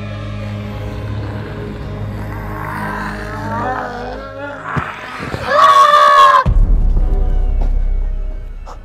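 A shrill, high-pitched scream rises sharply out of a game soundtrack of droning music and chatter in a zombie hide-and-seek video game, lasting about a second before cutting off into low rumbling background noise.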